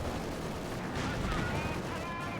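Tank cannon fire from a Firefly shooting at Panzer IVs in Company of Heroes 2 on the Eindhoven Country map, heavy booms rolling under a caster's excited commentary.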